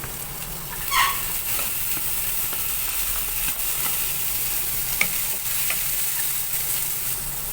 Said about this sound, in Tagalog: Kaya yung una natin i-gisa. Ito naman yung sibuyas. naman yung bawang.